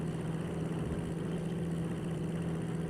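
Steady engine drone from a car racing down a long straight in the racing game Assetto Corsa, a constant mid-low hum held at an even level throughout, with no talk.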